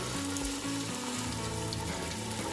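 Crushed ginger, garlic and green chili fry in leftover fish oil for a fish biryani, giving a steady, close sizzle with faint stirring, heard alone.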